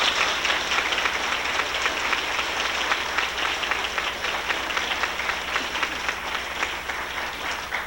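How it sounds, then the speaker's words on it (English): Audience applause for a reunion committee at a Princess Hantsport 1995 pageant event, steady dense clapping filling the whole stretch at a fairly even level, with faint background murmur. "I would hope that you would give them a big round of applause"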